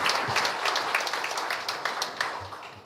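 Audience applause at a church meeting, a moderately loud, continuous clatter of hands clapping with some individual claps standing out.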